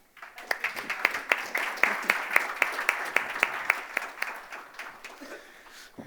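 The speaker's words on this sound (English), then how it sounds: "applaud Carol and end the session there" Audience applause closes a fireside chat session, a steady patter of many hands with sharp individual claps standing out through the middle before easing off slightly near the end.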